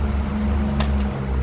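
A Regency electric fan, just repaired after a total failure at the fuse winding connection, hums steadily at its top speed setting, a constant close motor drone and airflow with one brief click partway through.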